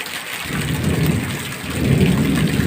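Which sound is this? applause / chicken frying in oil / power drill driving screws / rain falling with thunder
rain falling with thunder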